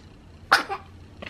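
A single short sneeze, close and sharp, bursts out in a quiet room where a newborn is being looked after, with a faint second breathy sound just after.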